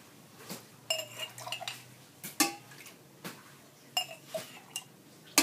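A metal spoon clinks and scrapes against a glass and jug while scooping red roselle drink, giving scattered sharp chimes and soft knocks at close range, with no talking.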